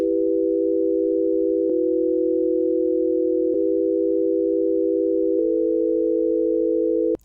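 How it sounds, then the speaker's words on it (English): Pure sine wave tone from a synthesizer in FL Studio: a steady, smooth humming pitch with no overtones, stepping between slightly different notes several times, each change marked by a faint click. "starting with the sine wave. This produces a pure smooth tone with no overtones."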